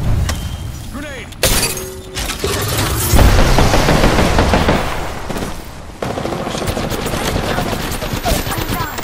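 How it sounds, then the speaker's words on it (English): A grenade goes off in the Apex Legends video game, a loud sudden blast followed by a long crackling, rumbling roar, with sharp shattering bursts and a second surge of noise near the end. "Grenade!"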